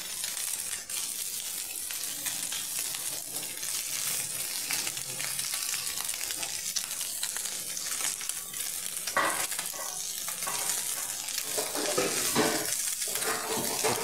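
Murola fish pond-caught in a village fries in a pan and is turned over, a steady close sizzle with scraping spatula strokes and a few clinks against the metal.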